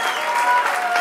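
Audience applause at a live show, a dense, steady wash of many hands clapping together for a full second with no voices over it.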